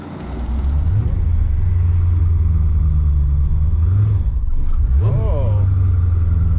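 A 1967 Corvette with a 427 engine rumbles steadily on a drive, its engine note rising and falling as it revs and shifts, loud and close from inside the car with people talking over it.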